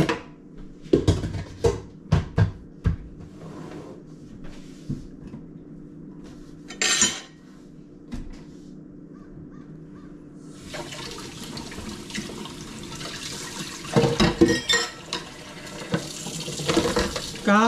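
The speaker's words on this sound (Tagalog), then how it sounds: "habang naghugas ako ng pinggan" Dishes being washed at a kitchen sink: close clinks and clatters of plates and cutlery come first, then tap water runs steadily and loudly under continued clattering.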